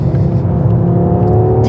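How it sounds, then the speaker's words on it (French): A 400-horsepower 2022 Audi RS3 accelerates hard, its engine making a dense, loud, continuous rumbling roar close by, with no one talking over it. "une Audi RS3 qui développe 400 chevaux et qui vous catapulte presque aussi rapidement qu'un Urus de chez Lamborghini"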